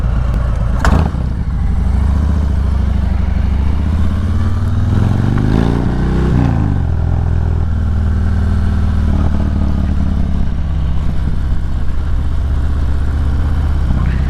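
Motorcycle engine running steadily during a ride toward San Francisco, a loud continuous drone with a brief rise in revs midway, close and dominant throughout with no talk.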